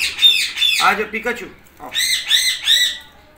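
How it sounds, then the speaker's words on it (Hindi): A pet budgie squawks in loud, harsh bursts at close range, several sharp calls in quick succession with a pause in the middle, while someone speaks briefly over them. "ये मैं आपको दिखाता हूँ अपना तोता निकाल के"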